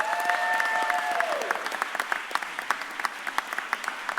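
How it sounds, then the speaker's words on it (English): At a mayor's press conference in Philadelphia, an audience applauds former Eagles player Bryant Westbrook: a fading tone gives way to steady crowd clapping with distinct sharp claps, moderately quiet. "Give a huge, huge round of applause for our forever Philadelphia Eagle"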